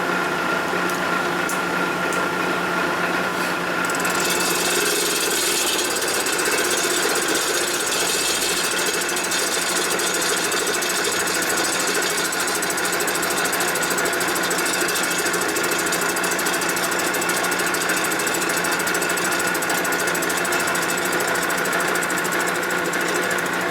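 A machining cut on a 1958 or 1960 Harley-Davidson panhead cylinder head gives a steady, loud, grinding metallic roar. It runs without a break for more than twenty seconds and has no talk over it.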